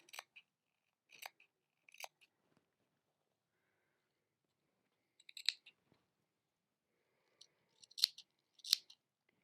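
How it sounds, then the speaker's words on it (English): Scissors snip into a fabric seam while sewing a pleat-sleeve top, a few short crisp cuts in small clusters separated by quiet pauses, close and clear with no talking. "So I'm clipping into that seam just so that it reduces the bulk there"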